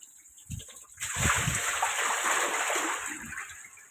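Water pours and splashes steadily at an old house, starting with a few brief knocks, then a continuous broadband rush of running water that holds fairly loud for several seconds with no talk.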